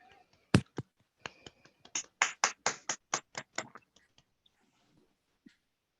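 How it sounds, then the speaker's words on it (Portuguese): A small group at a Rotary club meeting claps sparsely, with scattered individual claps building briefly and then tapering off into quiet. "Peço a todos uma salva de palmas ao Pavilhão Nacional e às demais bandeiras da FANOP."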